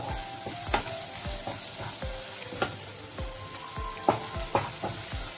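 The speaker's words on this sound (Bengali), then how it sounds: "আদা রসুনটা ভাজা ভাজা হয়ে গেছে" Ginger-garlic paste with chopped onion, cumin seeds and asafoetida frying in hot oil, a steady close sizzle broken by repeated clicks and scrapes of a spoon stirring the pan, with no voices.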